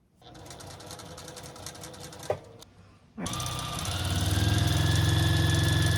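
A sewing machine stitches a lined dress for a little girl, starting with a rapid mechanical whir, pausing briefly after a sharp click, then resuming with a louder, steady, continuous hum up close.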